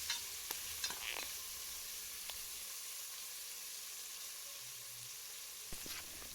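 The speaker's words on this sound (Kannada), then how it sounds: "ಟೊಮೊಟೊನೂ ಕೂಡ ಫ್ರೈ ಮಾಡ್ಕೊಳ್ಳೋಣ" Thinly sliced tomatoes sizzle steadily in a hot pan for egg biryani, a soft continuous frying hiss with a few light stirring clicks, close and quiet with no talk.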